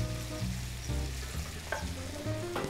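Chopped chili hits a hot pan for a warm chorizo salad and sizzles loudly, with a few scrapes and stirring clatters breaking the steady frying crackle.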